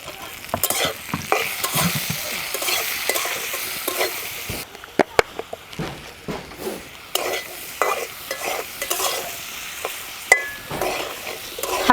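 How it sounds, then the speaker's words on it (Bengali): Boiled radish with salt and turmeric frying lightly in a pan, a soft, steady sizzle broken by frequent scraping stirs and sharp clinks of a spoon against metal, with no talk. "হালকা একটু ভেজে নিচ্ছি।"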